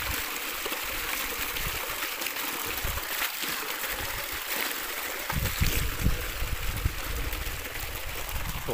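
Water runs steadily from a 2.5-inch farm supply pipe beside young coconut plants, a continuous near rushing and trickling flow heard alone, slightly busier toward the end.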